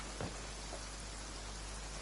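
Rain falls steadily in the game Genshin Impact as a soft, even hiss of faint rainfall that continues throughout, broken only by a brief thump near the start.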